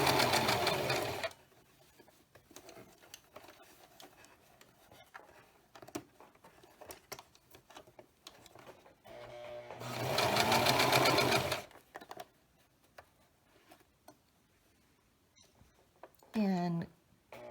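A home sewing machine back stitching cloth for a homemade face mask, running in loud close bursts at the start and again mid-clip, with quiet stretches of handling and talk between runs.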